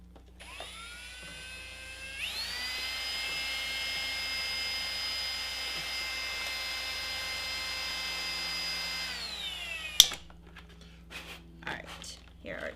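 Power drill whirring steadily for about eight seconds at a constant high pitch, spinning up and winding down at the ends, followed by a sharp clack and a few brief knocks.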